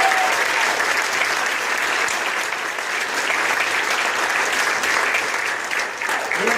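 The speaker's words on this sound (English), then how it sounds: "why don't you give him a hand clap just to celebrate" A church congregation gives sustained, even applause for a departing sound team member, a dense wash of many hands clapping that holds steady throughout, with no speech over it.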